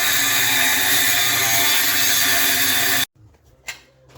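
Saw cutting through stock for a kindling splitter, a loud steady broadband whine running about three seconds and then stopping abruptly, followed by quieter workshop clatter and a brief knock.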